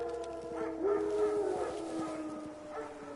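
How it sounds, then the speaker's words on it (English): Wild dogs howl in The Witcher 3, several overlapping wavering howls rising and falling at mid distance, with no one talking. "Wild dogs. Yes. More dangerous than wolves."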